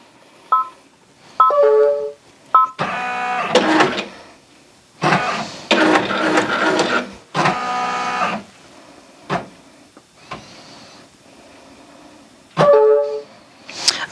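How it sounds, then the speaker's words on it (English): An embroidery machine runs a placement scan of a hooped duffel bag, giving short bursts of whirring, buzzing motor movement separated by pauses, with a few electronic beep tones at the start and end, close and clear. "now I need to do one more scan before we start stitching"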